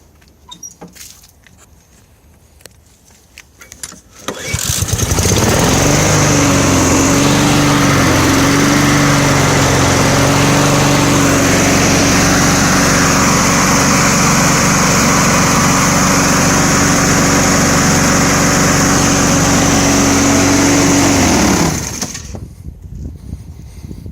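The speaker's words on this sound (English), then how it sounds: "This is the Honda lawnmower." A Honda lawnmower engine starts up and runs steadily for about seventeen seconds, a loud, close, even drone with a slight wavering pitch early on, then cuts off abruptly.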